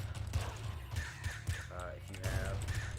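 Birds caw in the video game Nuclear Throne, repeated harsh calls mixed with game sound effects, while a person talks over them throughout.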